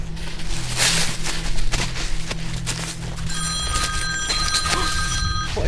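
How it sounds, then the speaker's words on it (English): A mobile phone tucked in a pocket starts ringing with a bright, repeating electronic tone that grows clear partway through, over rustling and background noise. "Dude, I've got Barbie's phone in my pocket. Here, I think it's for you"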